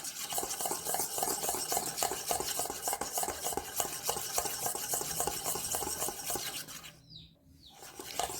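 Room-temperature butter being beaten in a bowl gives a fast, continuous rhythmic scraping and slapping close up that runs for several seconds, pauses briefly, then resumes, with no voices.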